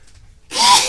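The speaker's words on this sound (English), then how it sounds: "I'm gonna sneeze." A single sharp human sneeze bursts out after a brief quiet intake, close and loud, ending abruptly.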